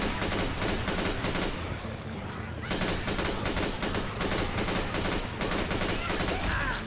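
Rapid gunfire in the zombie shooter Left 4 Dead 2 rattles in dense bursts of automatic shots, loud and continuous apart from a short lull, with faint voices mixed in.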